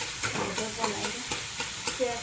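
Rice stir-fried in a pan with milk and egg, a soft sizzle beneath repeated scraping strokes of a spoon at an even, quick rhythm, close and moderately quiet.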